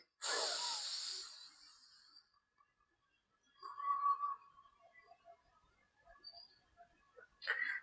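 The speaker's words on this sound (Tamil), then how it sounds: "மூச்சை இடது பக்கமா இழுத்து வலது பக்கமா விடுறோம்" Alternate nostril pranayama breathing (nadi shuddhi) during a stress-relief yoga session: a long, airy inhalation at the start, then a quieter breath with a faint whistle midway and a short breath at the end, close and soft.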